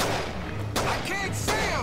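Heavy gunfire and artillery-like blasts rumble through a Pacific WWII battle in Medal of Honor Pacific Assault, near Guadalcanal, a dense, continuous barrage with sharp bursts cutting through around the middle.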